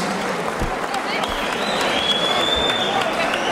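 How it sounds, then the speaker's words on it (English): A crowd at a professional boxing event applauds both fighters after the bout, giving a dense, steady wash of clapping and cheering noise that stays loud and even throughout the short stretch. "Come on, ladies and gents, give both these fighters another round of applause,"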